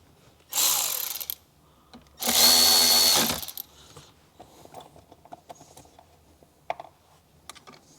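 Two bursts of a power drill driving screws into a Jeep Wrangler JL body panel, the first about a second long and the second a steadier, longer whir, with faint handling clicks afterward.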